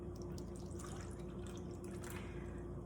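Water trickling and dripping as it is poured into a measuring cup for pastry dough, a soft, steady, close pour with small splashy drips throughout, no talking.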